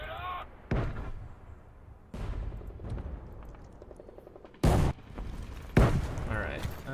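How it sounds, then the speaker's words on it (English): Gunfire and heavy explosions in War Thunder infantry combat, loud separate booms and bursts at irregular intervals over continuous battle noise, with a person talking throughout. "the gunfire's still probably a little too loud on the screen"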